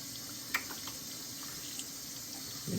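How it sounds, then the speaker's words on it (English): Steady stream from a tap running into a sink while hands are rinsed fingertips-down during a hand-washing demonstration, a constant close hiss with a few faint splashes and no talking. "in order to rinse the hands, we want to start with our fingertips down, and we want to rinse from the wrist"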